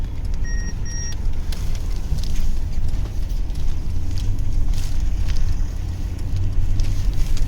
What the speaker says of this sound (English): as soon as you put it into sport, then you can then feel that yearning of the engine to just, you know, want to take off